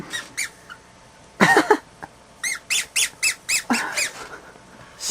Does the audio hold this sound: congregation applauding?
no